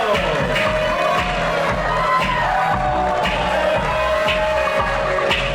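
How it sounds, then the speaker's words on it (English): Wedding guests cheer and clap in a steady crowd roar that runs unbroken and fairly loud, with whoops and shouts rising above the noise. "please keep that applause going for Michelle and Michael DeMarco"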